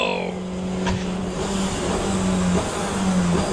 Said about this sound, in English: Here comes the Peugeot, my favourite hypercar.